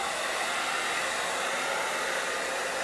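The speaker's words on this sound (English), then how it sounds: "I do wanna take the hairdryer to it and make sure it's nice and dry" A hair dryer blows steadily over wet chalk paste on a craft piece, a loud, close, unbroken airy roar that holds level throughout with no talking.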